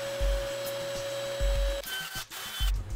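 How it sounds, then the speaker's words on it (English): A workshop disc sander whirs with a steady tone and a rhythmic thumping as its worn sandpaper fails, then the note breaks off into scrapes and irregular knocks. "when I tried using my disc sander to remove the extra material, the sandpaper decided to quit his job"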